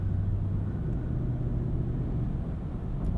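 Low steady road rumble inside the cabin of a 2021 Mercedes-Maybach GLS 600 with air suspension, driven at night, continuous and subdued with a faint low hum throughout and no talk.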